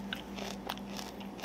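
Someone biting into and chewing crunchy food close up, with faint crisp crunches over a quiet steady hum, soft and brief, without speech.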